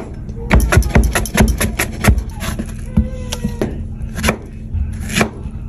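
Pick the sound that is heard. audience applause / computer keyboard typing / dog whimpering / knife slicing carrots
knife slicing carrots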